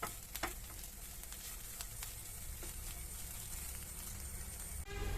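Onions frying in a pan for a Kerala-style rice and fish dish, a steady close sizzle that continues with a few light clicks and stirring taps before ending abruptly near the end.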